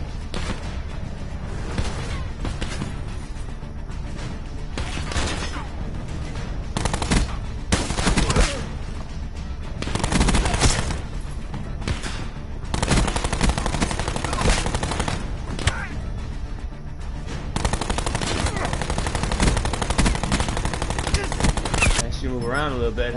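Rapid gunfire in the video game Call of Duty Black Ops 4, dense bursts of automatic shots and booms throughout, loud and close, with scattered talk mixed in.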